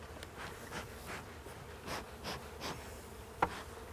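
Honey bees buzz in passing swells close to the microphone during a honey harvest, several drones rising and fading over a few seconds, with a single sharp tap near the end.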